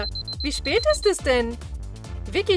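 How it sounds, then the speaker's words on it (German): A beeping alarm clock rings in a home in the morning, a rapid high repeating tone running through the first second under German-speaking voices. "Oh, das ist der Wecker."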